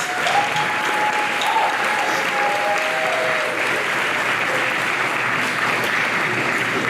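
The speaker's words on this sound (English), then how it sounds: "giving them a special big round of applause" A school audience gives sustained applause for parents and guardians at a student ceremony, dense steady clapping from a crowd with a few faint voices mixed in.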